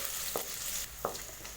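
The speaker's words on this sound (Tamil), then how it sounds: "இதோட கட் பண்ணி வச்சுருக்கிற பெரிய வெங்காயம், இதெல்லாம் நல்லா வறுத்துக்கலாம்" Chopped big onions and chillies fry in a pan with a soft, steady sizzle, broken by two brief spatula scrapes.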